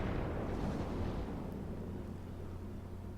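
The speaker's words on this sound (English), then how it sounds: "I'm taking my first shots at Furutaka" Distant, rumbling naval gun salvos in the World of Warships game, fired at the cruiser Furutaka with armor-piercing shells, heard as a steady, muffled low roar that slowly fades.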